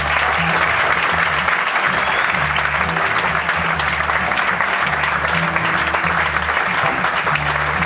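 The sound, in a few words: audience applause at a jazz concert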